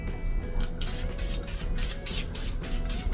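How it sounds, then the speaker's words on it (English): Repeated short hissing bursts of cooking oil spray onto a pan, about nine quick spritzes in a row over a low background rumble. "Get your spray."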